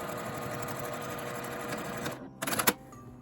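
A sewing machine stitches the corner seam of a drawstring eyelet bag, a close steady rapid mechanical whirr that stops for a moment, then a few sharp clattering bursts follow before it quiets.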